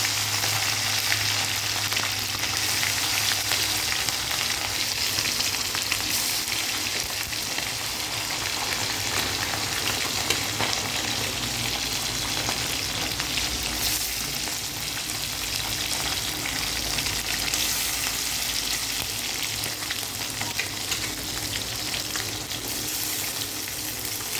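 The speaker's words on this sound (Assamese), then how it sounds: "আকৌ ভাজিব দিলোঁ।" Small tingora fish sizzle and crackle steadily in hot oil, a loud, continuous frying hiss up close, without any talking.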